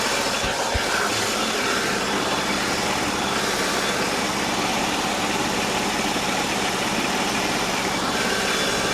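An old car engine idles steadily and fairly quietly with no rattle, a continuous low rumble and hum running unbroken throughout, with no talking heard.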